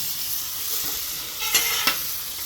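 Green beans cooking in garlic butter on a Blackstone griddle, giving a bright, steady sizzle up close with a couple of sharp scraping clacks from a spatula near the end.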